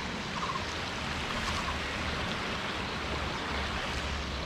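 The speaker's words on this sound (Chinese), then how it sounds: "我们这边发现一条小溪哦" A small mountain stream flows steadily with a broad, even rushing wash, constant and fairly close, with no voices over it.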